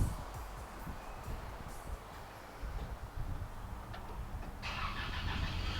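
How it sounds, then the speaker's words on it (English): An old pickup truck's engine cranks and catches, running roughly at a low, uneven rumble before fading out as it stalls, heard fairly faintly with outdoor background noise. "he stalled out. Put in first gear and couldn't take off"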